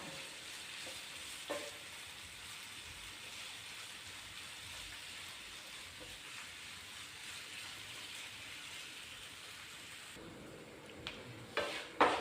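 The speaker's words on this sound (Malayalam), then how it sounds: "ഇനി ഇതൊരു ഗോൾഡൻ കളർ ആവുന്നിടം വരെ" Steady, dense sizzling of ginger frying in hot oil, a soft crackling hiss throughout, with a few faint clinks near the end.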